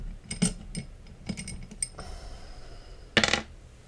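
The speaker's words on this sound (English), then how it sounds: "Let's roll one more of the angel number dice." Angel number dice being rolled during a reading, giving a few light clattering knocks and a sharper rattling burst near the end, fairly close and moderately quiet with no talking.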